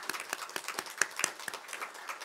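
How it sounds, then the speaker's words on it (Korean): Korean church congregation applauding during a Sunday service, a short burst of brisk, uneven hand clapping from a moderate crowd, fairly close and lively. "우리 박수로 한번 축하해 주시고 격려해 주십시다."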